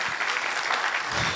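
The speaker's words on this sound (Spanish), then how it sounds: "Fuertes aplausos para nuestro expositor y nuestra panelista." Loud applause from an audience at a law conference on constitutional control models, honoring the presenter and a panelist, steady dense clapping throughout with no talk over it.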